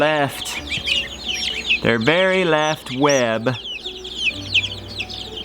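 Icelandic chickens cluck and crow close by, with a couple of drawn-out rooster-like calls standing out over a busy background of chirps and low clucking while a person talks nearby.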